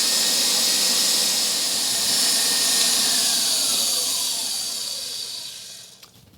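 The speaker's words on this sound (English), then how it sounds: "I'm going to use my whisk attachment, and we're going to whisk this up" A stand mixer whisk attachment whips lady finger batter with a steady high whirring hiss, loud and close, then slows and winds down near the end with a brief clatter.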